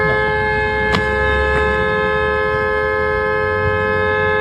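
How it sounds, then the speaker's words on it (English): A car horn honking in a played-back road video, a sustained steady blaring tone held throughout, loud over a dense rumbling background of traffic noise. "Honk at him."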